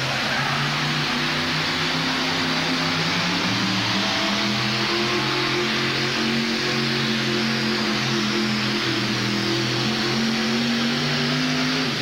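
A 1988 monster pulling truck's engine revs hard and steadily at close range during a truck pull, a loud continuous roar with wavering pitch that fills the whole stretch without any talk.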